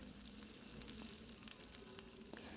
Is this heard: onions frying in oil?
yes